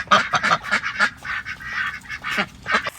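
Farm ducks quack in a rapid, uneven series of loud, close calls, several birds overlapping with short gaps between bursts.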